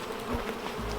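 Honey bees buzz around a nuc hive in a close, steady droning hum over a brief moment.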